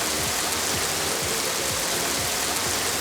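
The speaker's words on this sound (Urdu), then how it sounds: "راولپنڈی اور اسلام آباد میں بارش سے جل تھل ایک ہو گیا" Heavy rain pours steadily over Rawalpindi and Islamabad in Pakistan, a dense, even hiss of downpour with faint low rumbles beneath and no voices.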